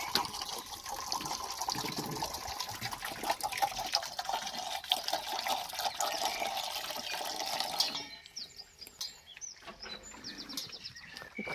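Fresh water runs and trickles steadily into a puppies' drinking bowl at a Staffordshire terrier kennel for about eight seconds, then stops, leaving faint clinks and small sounds.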